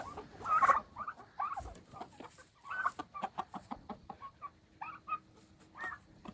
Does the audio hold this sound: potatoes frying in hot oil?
no